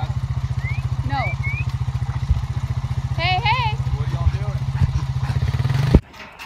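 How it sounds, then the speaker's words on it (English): A four-wheeler ATV engine runs steadily at close range with a low, even drone while people talk over it, then cuts off abruptly near the end. "Ashley and I are riding the four-wheeler while Rob, Reef, and Blake fill the feeders"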